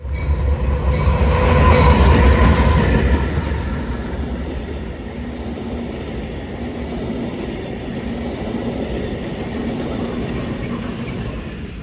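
A Via Rail passenger train heads eastbound through Geneva behind a UPAC 44 leader, its loud rumble peaking early as it passes close, then easing into a steady rolling clatter of cars.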